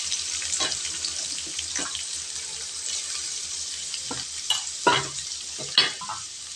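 Chopped small and large onions frying in a pan, a steady broadband sizzle with occasional louder scrapes and stirring knocks, close and continuous with no talking.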